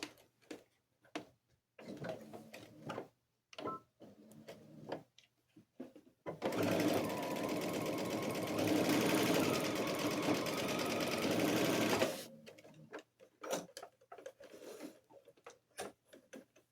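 A sewing machine runs steadily for about six seconds, stitching along a curved edge of a city houses and trees quilt piece; brief quieter handling noises come before and after, with no talk.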